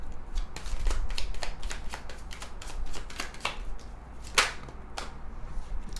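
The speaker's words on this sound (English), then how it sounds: "Let's see, one more shuffle." Tarot cards being shuffled by hand, a series of quick crisp riffles and snaps in an uneven rhythm, close and fairly quiet, with no talking.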